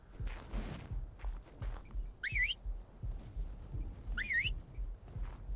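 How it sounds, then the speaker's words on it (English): Whistle command to a tamed creature in the ARK survival game: two short rising whistles, a couple of seconds apart, sound over steady footsteps and low background rumble. "Okay, whistle it to follow you."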